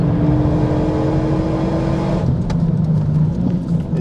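An RS car accelerates on a track during a timed lap, its engine droning loudly and steadily from inside the cabin. The tone eases slightly partway through as the throttle is fed back in.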